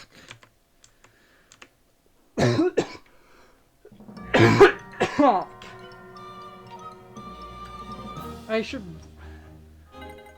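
A person coughs a few times in loud bursts during a Nintendo Land Pikmin Adventures game recording, with quiet keyboard clicks and faint game sounds around the coughs.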